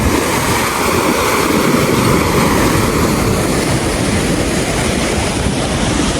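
Water pouring heavily in a large village canal, a loud, steady broadband roar of rushing and falling water heard up close without interruption.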